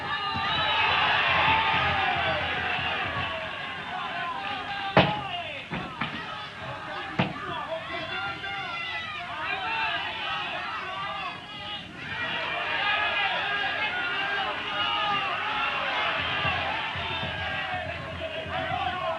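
A boxing crowd cheers and shouts at ringside, a sustained roar with a few sharp thuds of punches landing, while someone talks over it.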